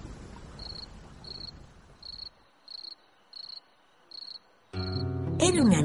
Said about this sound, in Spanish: ¿Escuchaste al grillo?